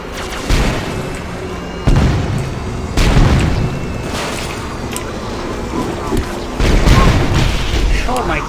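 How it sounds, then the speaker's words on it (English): Explosions in the video game Halo go off as several loud booming blasts spaced a second or two apart, each trailing into rumbling debris noise, with a voice talking between them. "Oh my god, all the explosions."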